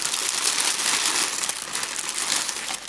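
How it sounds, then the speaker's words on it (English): Close, continuous crinkling of PVC packaging paper being handled, bright and crackly for about three seconds with no voices. "Just take out the super crazy paper. PVC. I hope that's not too loud."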